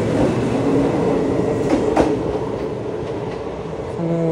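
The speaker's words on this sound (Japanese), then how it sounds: "近鉄でも一番古い特急列車、16000系です。" A passing Kintetsu 16000 series express train rumbles steadily with rhythmic wheel clatter on the rails, loud and near, ending with a brief tonal hum.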